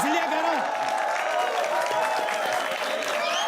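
Dense, steady applause from an audience at a political speech, sustained through the whole stretch, with a voice talking over it at the start.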